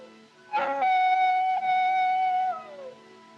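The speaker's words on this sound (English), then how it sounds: "Them coyotes give me the creeps." A single drawn-out coyote howl in an open desert setting, rising sharply then holding a steady wavering tone for about two seconds before sliding down and fading, with a faint second voice underneath.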